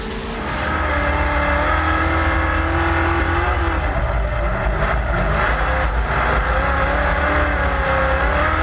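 A drift car making a flawless professional run, its engine roaring loud and steady throughout with rising and falling revs, tire squeal blending into the continuous harsh noise.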